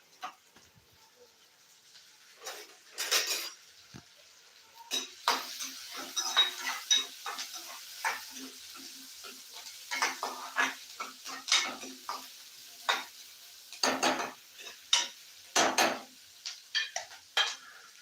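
Onions being sautéed and stirred in a pan for a village-style egg curry, heard as irregular metallic scrapes and clinks of a spoon against the pan, with many sharp taps close up and no steady sizzle.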